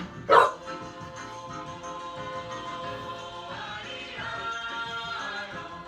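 A dog gives one loud, close bark near the start, then music plays steadily underneath for the rest, in a room with a jukebox at a hotel.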